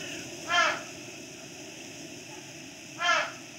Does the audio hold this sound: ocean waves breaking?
no